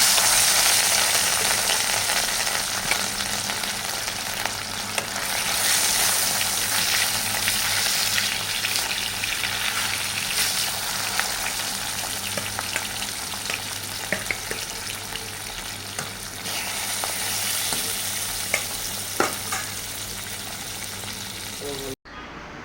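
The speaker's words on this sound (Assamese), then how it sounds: "এতিয়া মাছখিনি ধুনীয়াকৈ ভাজি ল'ম" Pieces of fish sizzle in hot oil in a home kitchen, a continuous bright frying hiss with occasional crackles and stirring, ending abruptly.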